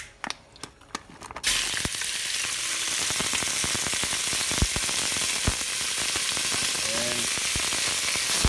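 Lamb drops into very hot vegetable oil and bursts into a loud, steady sizzle that fills the rest of the clip, with a few clinks of utensils and a brief spoken word near the start.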